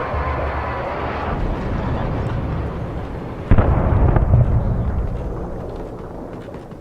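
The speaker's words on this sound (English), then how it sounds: "Something's taking the helicopter out." A helicopter is destroyed in the video game Alan Wake Remastered: a low engine-like rumble builds, then a sudden heavy blast hits midway and fades into a lingering roar.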